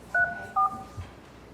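A telephone keypad sends two short dialing tones in quick succession while someone calls a person back during a town review board meeting, the beeps crisp and close with a faint room hum under them.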